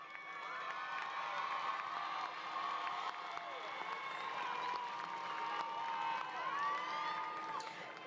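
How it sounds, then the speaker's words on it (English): Graduates at a fall commencement ceremony cheer and applaud for their families, a steady crowd roar with whoops and shouts sustained for about eight seconds. "round of applause"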